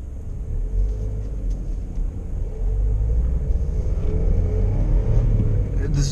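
A car cruises along a road with a steady low engine rumble and tyre drone that swells slightly as it picks up speed, heard from inside the cabin.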